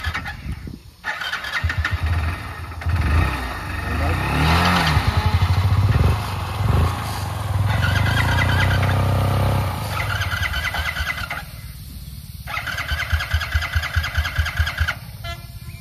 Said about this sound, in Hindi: पहले इसको स्टार्ट कर रहे ये स्टार्ट हो गई है